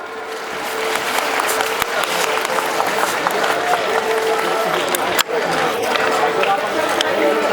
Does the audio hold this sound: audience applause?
yes